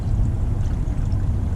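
Diesel fuel pours steadily into a bucket during a fuel filter change on a Paccar X15 truck engine, a continuous close splashing wash of liquid lasting under two seconds.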